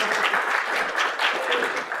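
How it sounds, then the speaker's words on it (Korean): An audience at a college admissions briefing for a Korea Polytechnic bio campus academy gives a sustained round of clapping, dense and fairly close, with no talking over it. "박수 한번 쳐주세요"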